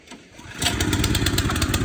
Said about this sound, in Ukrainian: Ну що ж, пробуємо заводити.